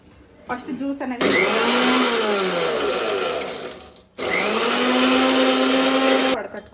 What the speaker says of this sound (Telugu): ఇప్పుడైతే మిక్సీ పట్టుకుందాం